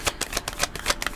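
Oracle cards being shuffled by hand, a rapid run of crisp riffling flutters, close and steady, with no voices.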